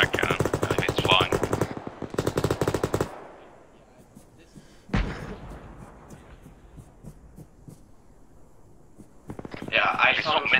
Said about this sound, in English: You might want to use the machine gun as well.